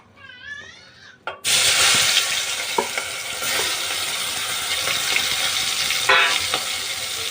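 Prawns hit hot oil in a pan and then get stirred, a sudden loud sizzle that stays steady and close, with scraping stirs on top. Someone speaks briefly just before the sizzle starts.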